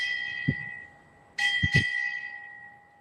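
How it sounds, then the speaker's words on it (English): A ship's bell rings at a United States Navy change-of-command ceremony, clear metallic strikes in quick pairs, each left to ring out and fade, with no voices. "Bell ringer, strike 6 bells."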